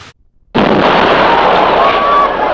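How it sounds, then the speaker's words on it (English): A pipe bomb explodes in archival news footage from Atlanta: a sudden, very loud blast breaks a near-silence and swells into a sustained, roaring wash of noise that fills the rest of the moment. "He set off a pipe bomb"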